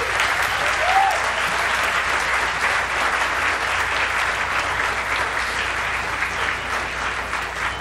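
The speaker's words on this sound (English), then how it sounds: "please join me in a round of applause for our wind ensemble" A large audience at a California State University presidential inauguration applauds steadily for the wind ensemble, a dense, even wash of clapping that holds at full strength from start to finish with no talk.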